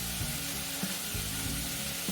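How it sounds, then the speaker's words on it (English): Pasta cooking and stirred in a pan over raised heat, a dense continuous sizzle and bubbling with faint periodic scraping and clinks, close and steady with no voices. "I'm going to stir our pasta."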